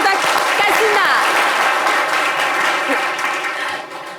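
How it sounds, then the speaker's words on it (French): Loud studio audience applause for a caller phoning in to a live French-language talk show, a dense steady wash of clapping that fills the clip and fades slightly at the end. "applaudissez pour Cassina."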